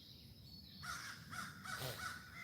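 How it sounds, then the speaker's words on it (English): Crows cawing outdoors: several harsh, repeated caws ring out at a moderate distance over soft background noise, with no talking. "Don't you just hate when birds interrupt your freaking thing?"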